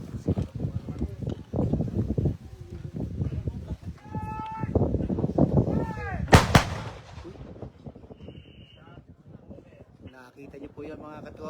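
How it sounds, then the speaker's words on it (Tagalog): Two 105 mm howitzers of a field artillery unit fire at the same moment during a combined arms brigade exercise, one loud outdoor blast with a rolling echo, surrounded by wind noise and people talking before and after. "dalawa pong magkasabay na howitzer yung pong pumutok"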